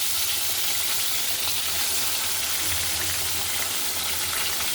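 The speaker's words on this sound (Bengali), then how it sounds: "এখানে আমার সব মাছগুলো ভালো মতো ভাজা হয়ে গেছে" Pieces of rohu fish frying in hot oil give a steady, dense sizzle throughout, close and even with no voices.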